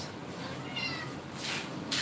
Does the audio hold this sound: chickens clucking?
no